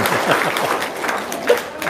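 Applause from a gathered audience at a religious talk, with scattered clapping and a few voices mixed in for a short stretch.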